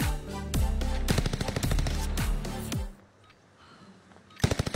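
Video game weapon firing in rapid automatic bursts, loud and close with dense repeated shots for about three seconds, then a quieter pause before another burst starts at the end; no speech.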